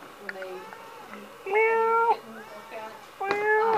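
Kittens at the Mishawaka Humane Society give several clear, close meows in a loose sequence, two of them long and drawn out, while people talk softly nearby.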